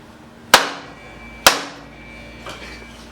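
Two sharp, loud wooden whacks about a second apart from a whacking stick striking wood pieces while working on a 1977 Honda CT90 Trail motorcycle, each ringing briefly, followed by fainter knocks.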